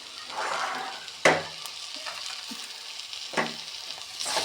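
Chopped onion, ginger and garlic sizzle and fry in a pan for mutton curry, with steady crackling hiss and a few sharp scraping stirs of a spoon, close and clear, no talking.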